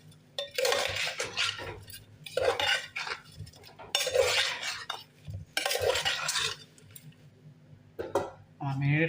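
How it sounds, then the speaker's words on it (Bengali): Mutton being mixed by hand with local spices in a metal pot for marination, giving repeated scraping, clinking and stirring bursts at close range. "এখন আমি ভালোভাবে ম্যারিনেট করে নিচ্ছি।"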